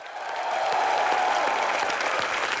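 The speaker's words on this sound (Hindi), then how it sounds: "एक बार जोरदार तालियां।" Studio audience at a Hindi comedy show bursts into steady applause, a dense wash of clapping that swells in the first half second and holds loud and even to the end, with no talking over it.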